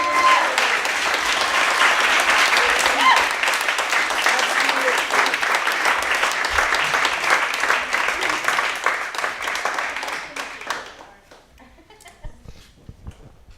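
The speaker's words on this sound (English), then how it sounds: "Y'all clapping" An audience at a talk gives sustained applause, dense clapping that holds steady for about ten seconds and then thins out into scattered claps and a few quiet voices.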